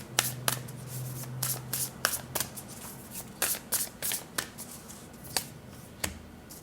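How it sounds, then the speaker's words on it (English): A deck of oracle cards is shuffled by hand in short, crisp riffling bursts and soft slaps, repeated at an irregular rhythm, close and fairly quiet with no talking. "let's get a card from the Rooted Woman Oracle deck for you"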